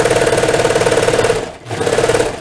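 A serger sewing machine stitches a sweater seam, a loud, fast, even mechanical chatter that stops briefly and then starts up again, close by with no speech.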